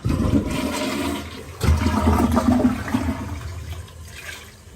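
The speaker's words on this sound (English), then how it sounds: "Then I'll give my toilet a flush." A household toilet flushes after a sitz bath basin is emptied into it: a loud rushing swirl of water that surges midway, then drains and fades toward the end.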